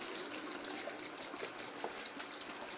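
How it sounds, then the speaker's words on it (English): Beef broth poured into a pot over frozen vegetables for a canned vegetable soup, a faint, steady liquid trickle and splash throughout. "I'm just going to add the beef broth"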